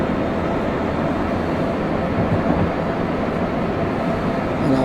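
A train rolls along an American route to Bridgeport in Train Sim 2020's Vermonter, a steady, loud, unbroken rumble of wheels and motion with no talking.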